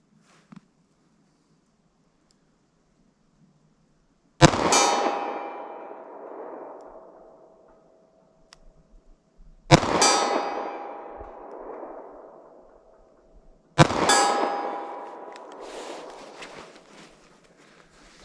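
Three .38 Special plus P rounds fired slowly at a steel target 40 yards away, each a sharp loud report followed by a ringing metallic ping that decays over several seconds, spaced about five seconds apart.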